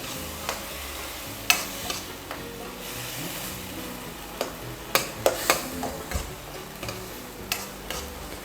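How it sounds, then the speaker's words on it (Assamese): A spoon stirs dal with drumstick leaves in a cooking pan, making irregular scraping clicks and taps over a soft background sizzle, close by with no voices. "এতিয়া ভালদৰে লৰাই দিব লাগে"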